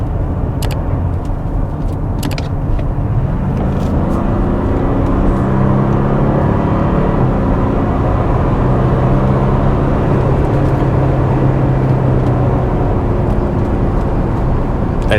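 A racing car sweeps through a bend without braking, its engine a loud sustained roar with a rising and falling drone, close and continuous with a few sharp clicks early on.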